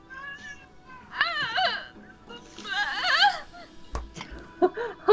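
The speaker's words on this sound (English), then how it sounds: "Is it weird my cat made the exact same sound Tara's did?" A pet cat gives two long drawn-out wavering meows, close and clear, followed by a few shorter chirping sounds and a soft thump.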